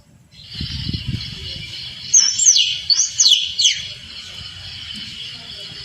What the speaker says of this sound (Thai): ใช้อีกเครื่องเปิดเสียงกระลอกนะครับ